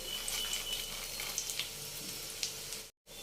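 Cumin seeds sizzle in hot oil for a tempering with garlic cloves and dried red chillies, giving a continuous close frying hiss with scattered small pops and crackles before a sudden brief silence.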